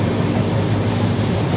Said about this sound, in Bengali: আমরা এখন আছি, কোন ট্রেনে আছি? সম্বলেশ্বরী এক্সপ্রেস